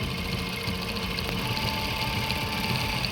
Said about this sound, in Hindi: लास्टिक के नीचे मैं सिलाई लगा रहा हूँ और खींच भी नहीं रहा।